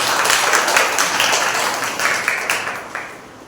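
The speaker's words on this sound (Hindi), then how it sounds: "आइए हम उस पवित्र परमेश्वर के लिए एक बार जोरदार तालियां" A church congregation at a Sunday service claps loudly together, a dense burst of applause that gradually thins and fades toward the end.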